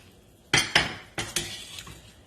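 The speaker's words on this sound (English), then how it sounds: "I'm going to remove all this white onions." A utensil knocks against a pot four times in two quick pairs while white onions are scooped out of boiling broth for Vietnamese shrimp and meatball udon soup, with sharp close metallic clinks over a quiet background.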